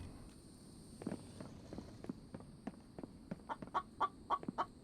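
In the survival video game The Infected, a chicken clucks in quiet, scattered bursts that grow more frequent and louder toward the end, over a low steady background hum.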